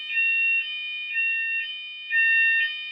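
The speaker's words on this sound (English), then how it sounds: "There's a fire alarm where I am" A fire alarm sounding in loud, piercing electronic tones, pulsing in repeated bursts with no voices.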